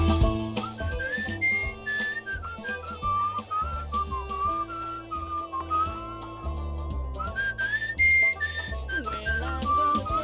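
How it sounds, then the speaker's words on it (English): Whistled melody notes from Where the Water Tastes Like Wine, a clear, loud sequence of short pitched tones moving up and down over a steady musical backing, with no talking. "Hold LB to whistle if you match the notes."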